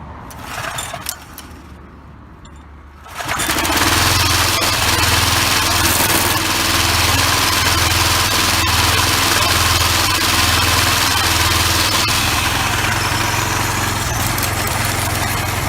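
A Troy-Bilt push trimmer with a freshly gapped spark plug starts after a few brief pulls and settles into a loud, steady buzzing two-stroke idle, close up.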